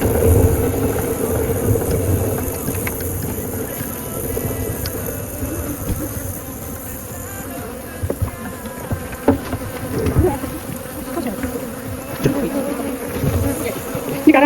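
Honey bees buzz steadily around a hive, a dense, continuous drone that stays close and loud for the whole stretch, with a few brief knocks and rustles mixed in and no talking.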